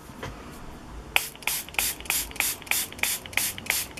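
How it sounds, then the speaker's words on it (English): A spray bottle is pumped repeatedly onto watercolor paper, about ten quick hissing spritzes in a steady rhythm, close and clear after a quiet start. "And again, spray it."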